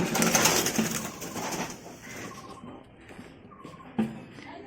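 Giribaz pigeons coo nearby in soft, repeated throaty calls over a rustling background, with a sharper shuffle or wing sound near the end.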